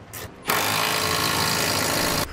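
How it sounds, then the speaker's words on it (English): A power tool runs in one loud, steady burst of about two seconds, snugging down the front rail bolts on a Curt Double Lock flip-and-store gooseneck hitch, with a brief quieter rustle just before it starts. "now we'll snug down our front rail bolts"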